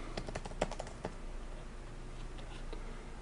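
Computer keyboard keys clicking in a quick cluster of taps, then a few scattered faint presses, as a shortcut is typed in Blender, quiet and close with no talking.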